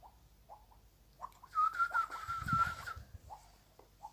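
A child imitates a pigeon's cooing, a soft, low, throaty coo held for about a second and a half with a faint whistly edge, close but quiet, between brief breathy sounds and near silence.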